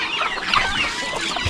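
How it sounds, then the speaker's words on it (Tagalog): Farm fowl at a hut make close, busy clucking and honking calls, several birds overlapping in quick, loud bursts for a short moment with no talk. "Kung ilan lang yung gansa na dito."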